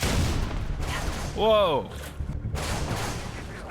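Gunfire from the video game Halo 3 comes in short bursts beneath almost constant talk, and a voice cries out midway.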